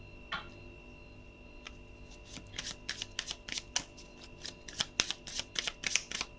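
Playing cards are shuffled close by in quiet surroundings, a quick irregular run of soft riffling flicks and slaps that grows busier toward the end.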